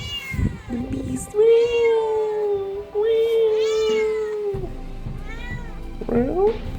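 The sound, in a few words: cats meowing loudly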